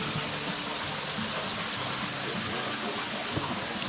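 Steady rushing of mountain water falling at a coffee processing site, a continuous broadband wash at moderate level with no clear breaks or voices.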